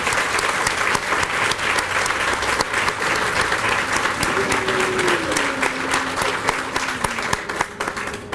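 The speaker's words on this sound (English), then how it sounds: "Let's give them a round of applause." Crowd applause for county employees and staff at an animal care and adoption center grand opening, dense continuous clapping with a brief tonal sound partway through.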